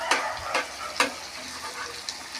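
Onions frying to a light reddish brown in a pan for a country chicken curry, a steady sizzle broken by a few sharp stirring scrapes, close, no speech.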